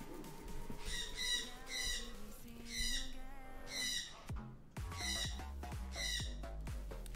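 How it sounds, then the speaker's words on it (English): A loud bird squawks outside in a series of harsh, repeated calls in short bursts, close and prominent over a low indoor hum. "that bird is loud"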